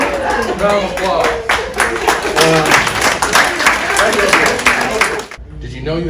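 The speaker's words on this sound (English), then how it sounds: "Round of applause." A workshop audience claps briskly for about five seconds, close and loud, with voices and laughter mixed in, before the applause cuts off and a voice speaks briefly.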